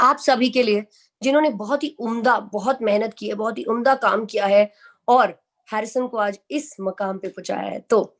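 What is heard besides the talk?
No everyday noise stands out behind the speech.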